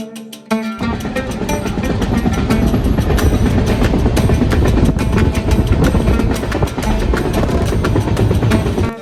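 A train rumbles loudly along the rails after a brief quieter start, with continuous clattering and rolling noise close by.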